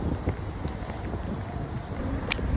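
Steady wind blowing hard across the microphone, a constant rushing roar with no pauses, close and loud.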